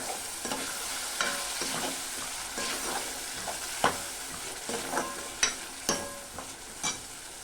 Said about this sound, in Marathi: आणि पुन्हा परतून घेऊया